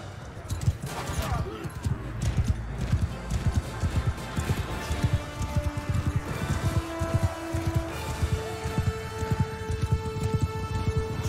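War horses' hooves clip-clop in Mount and Blade Bannerlord during a battle, a continuous irregular patter of hoofbeats amid combat noise and other sounds.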